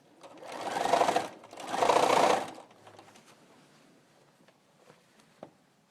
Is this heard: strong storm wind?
no